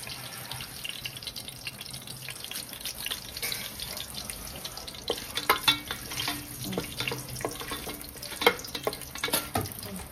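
Onions and cardamom fry in ghee for mutton biryani, a soft steady sizzle with scattered spatula scrapes and clicks that grow busier midway, close and moderately quiet with no talking.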